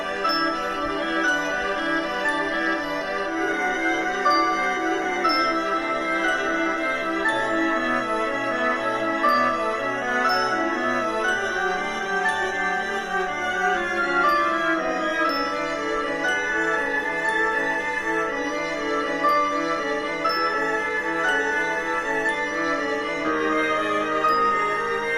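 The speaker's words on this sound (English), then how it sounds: "we've got the violin playing the melody that you're used to with the harmony that you're used to" Violin carries a familiar melody over cello harmony, both slowed to half speed, giving sustained, drawn-out bowed tones that play continuously and steadily throughout with no talking.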